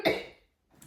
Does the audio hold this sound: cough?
yes